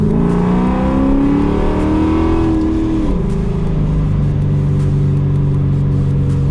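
A car drives along and accelerates in second gear, its engine note climbing steadily and then settling into a steady drone after a shift, close and loud with no talking.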